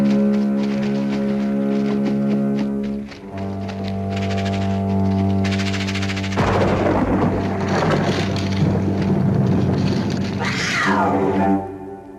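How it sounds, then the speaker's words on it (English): A cat yowls and growls loudly and continuously amid eerie sustained music tones, with rising screeching cries near the end; no one speaks. "Just the cat."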